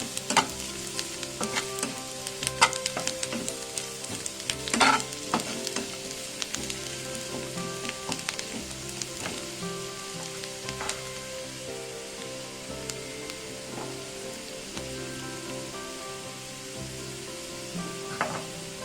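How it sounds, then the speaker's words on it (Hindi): Chopped onions fry toward golden brown in a pan, a steady close sizzle with spoon stirring and scraping, louder early and settling into an even crackle, no voices. "हमें यह को गोल्डन ब्राउन कलर हेबा पर्यंत भाजिबा।"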